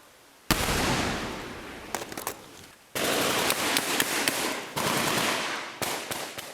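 Bursts of small arms fire from a Taliban ambush in Afghanistan's Korangal Valley, loud and close, rattling in several long sustained volleys with short gaps between them.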